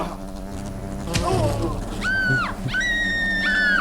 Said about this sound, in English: It was a very strange wasp.